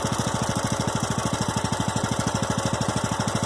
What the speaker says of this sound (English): See, it's running rougher. It likes to run at half choke.